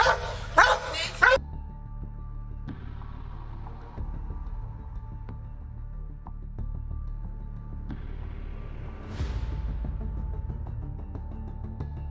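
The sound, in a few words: police K-9 dog barking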